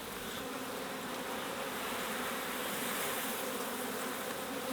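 Honey bees swarm around an open beehive during a summer hive inspection, a dense continuous buzz of many insects close by, steady and loud with no talking.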